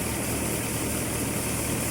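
A farm tractor engine runs at a steady idle, a constant, dense, vibrating drone that stays loud and unbroken throughout.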